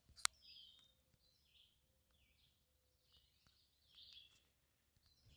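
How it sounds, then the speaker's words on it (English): Birds sing outdoors in a wet, rain-soaked natural setting, faint high chirps and short phrases repeating far off over a quiet background, with one sharp click near the start. "Can you guys hear the birds?"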